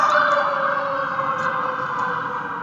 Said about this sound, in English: There's ambulances and fire trucks in the background.